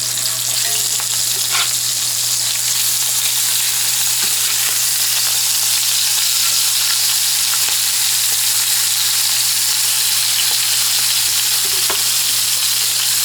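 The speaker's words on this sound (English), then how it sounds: "I'm just going to throw my burgers right in there on top" Steady, dense sizzling of burgers frying in a hot cast iron pan, a continuous crackling hiss with occasional sharper pops, close and loud throughout.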